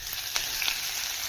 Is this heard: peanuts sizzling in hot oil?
yes